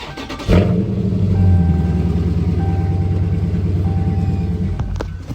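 A Dodge Hellcat's engine starts with a sharp burst and then settles into a steady, loud idle rumble close by for several seconds before cutting off.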